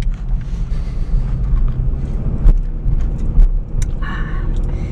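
Road traffic in Los Angeles, heard from inside a moving car: a steady low rumble of engine and road noise with wind buffeting, a couple of brief thumps, and faint voices in the background.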